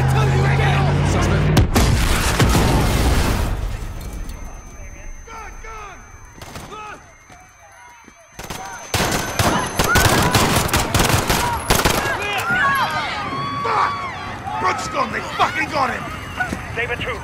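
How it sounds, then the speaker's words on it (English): Call of Duty Modern Warfare campaign chaos at Piccadilly Circus: a heavy detonation followed by bursts of rapid gunfire and scattered single shots, loud and close, with shouting voices in between. "Detonation at Piccadilly Circus. Shots fired."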